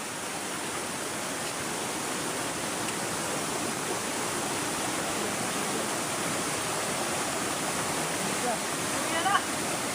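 River water rushes in a constant, dense roar at a bathing spot, close and unbroken for the whole stretch, with a faint bump of activity near the end.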